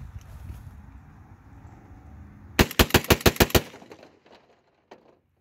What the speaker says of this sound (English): That is the first rounds through this particular gun. That's light loads, GC-127 Remington.